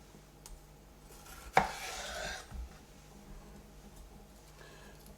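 A knife slicing open a washed bell pepper: one crisp, close cut followed by a short soft rustle of the flesh, quiet overall with low background hum.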